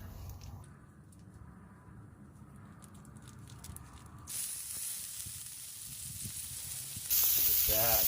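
Ground elk meat cooking on a Blackstone griddle for tacos, a moderate sizzle that grows louder partway through and then jumps to a bright, intense hiss toward the end, with no voices.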